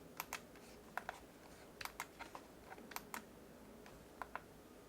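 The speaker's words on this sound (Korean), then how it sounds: "자, 일단 키보드로 하는 거." Fingers type on a computer keyboard in short, irregular bursts of crisp key clicks, close and quiet, with brief pauses between groups of keystrokes.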